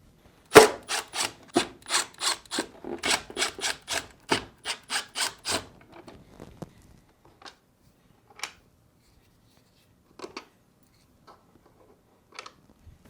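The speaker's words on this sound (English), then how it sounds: "Using a Phillips screwdriver, remove these 4 screws holding the ice chute plate in place." A Phillips screwdriver backs screws out of the ice chute plate on a Whirlpool refrigerator, giving a quick, even run of close scraping, ratcheting clicks for about four seconds before trailing off into a few faint, scattered taps.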